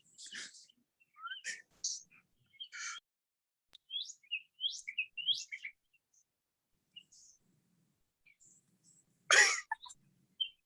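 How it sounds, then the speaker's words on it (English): Birds chirp and tweet in short bursts with quiet gaps between, a lively string of calls ending in one louder, sharper call; no talking. "The birds are singing."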